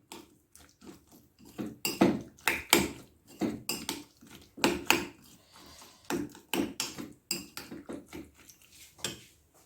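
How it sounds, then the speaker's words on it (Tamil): Almond gum being stirred into a falooda mixture with a spoon in a bowl, giving repeated close clinks and scrapes in an uneven rhythm, moderately loud with no talking. "இதை ஆட் பண்ணி இது கூட இதை நல்லா மிக்ஸ் பண்ணிக்கிறேன்."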